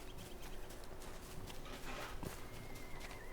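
Horses in a stable in the video game LOTRO, soft hoof clops and shuffling steps over a steady ambient bed, faint and fairly distant.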